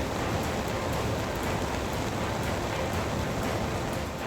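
Heavy rain pours steadily on a road in Uttarakhand, a dense, even hiss that stays loud and unbroken throughout with no voices.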